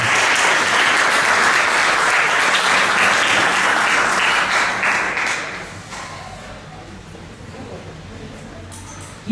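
An audience applauds loudly and steadily, the clapping holding strong for several seconds before tapering off to scattered claps.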